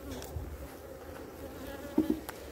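Honeybees buzzing around an open hive during an inspection, a dense steady drone of many bees close by, with a couple of brief clicks near the end.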